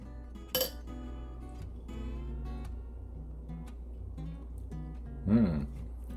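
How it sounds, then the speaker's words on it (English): A spoon stirs honey pie mixture in a bowl, giving a quiet run of soft scrapes and small clinks, with a sharper clink near the start and another near the end. "Now I'm going to stir"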